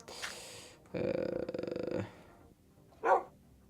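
Dog barking in the Minecraft video game: a short yelp, then a dense run of rapid game barks for about a second, and one more sharp bark after a pause, with no one talking.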